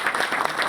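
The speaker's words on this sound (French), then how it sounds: "il faut les applaudir encore une fois." A conference audience at an opening session applauds in a short, dense burst of clapping, loud and near.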